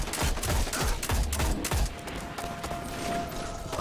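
Rapid bursts of gunfire from the video game Destiny, several close, heavy shots in a quick cluster early on, then a softer steady background with a thin mechanical whine.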